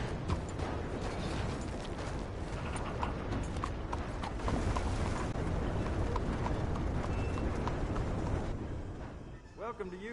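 Arthur's horse in Red Dead Redemption 2 walks with a steady clip-clop of hooves on hard ground, moderately close and continuous, with background game ambience and a voice speaking over it.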